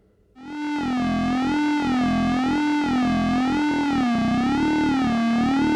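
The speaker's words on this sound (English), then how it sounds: "a normal hard sync sound sounds like this" Classic hard sync tone from a Behringer 2600 synthesizer, a loud bright buzzy note with wobbling, sweeping harmonics that fades in quickly and holds steady, with no voices.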